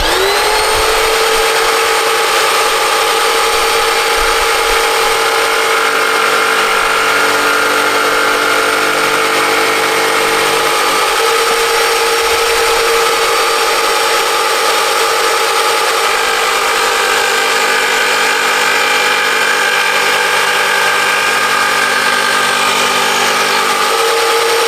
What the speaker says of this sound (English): got a tabletop reciprocating saw